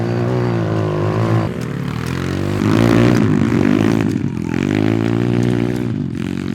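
Buscadero BSX140 motorcycle engine droning steadily as it climbs a hill, a loud, continuous buzzing hum that swells in the middle, with no talk.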